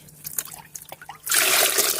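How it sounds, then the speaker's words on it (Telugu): Fermented rice-washing and lentil-washing water is poured into a pot, first as scattered drips and trickles, then as a loud steady splashing stream over the final second. "ఇది ఇందులో వేసేసుకోండి బాగా పులిసినటువంటి బియ్యం కడిగిన నీళ్ళు పప్పు కడిగిన నీళ్ళు"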